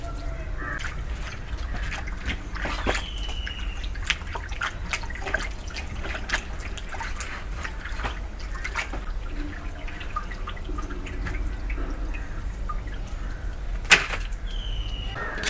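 Duck meat being rinsed in a bowl of water with salt and vinegar gives soft drips, trickles and light splashes, quiet and close, with a few sharper clinks along the way.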